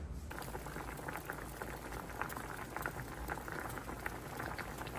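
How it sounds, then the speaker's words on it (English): Sweet potato chunks boil in a pot of water that barely covers them, giving a dense, steady bubbling and churning that carries on evenly from start to end, with no one talking. "we're gonna bring these to a boil until they are fork tender"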